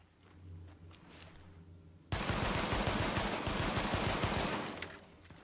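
Damascus high-end pistol fired in The Division on Xbox One, the shots arriving as a dense, loud burst of gunfire that breaks in abruptly after a quieter opening and continues steadily to the end.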